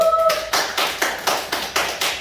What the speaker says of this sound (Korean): 이분한테 박수 한번 쳐